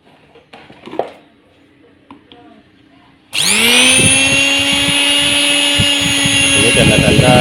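A Miyako blender fitted with a replacement motor switches on after a few quiet seconds of faint handling noise, then runs with a loud, steady, high-pitched whir that holds evenly to the end.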